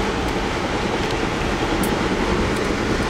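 Riding aboard an Amtrak train gives a loud, steady rumble with rattling and rushing noise, continuous throughout with faint clicks and knocks scattered over it.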